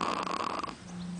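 Baby snoring, a close, raspy nasal rumble followed by a softer breathing tone, brief and moderately quiet.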